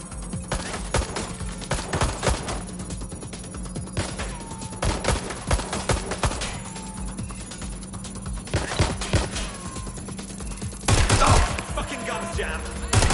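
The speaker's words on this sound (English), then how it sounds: "Shots fired. Suspect is hit." Rapid bursts of gunfire from the video game Watch Dogs Legion, dense volleys and machine-gun rattles repeating throughout over a steady low hum, with a louder cluster of shots toward the end.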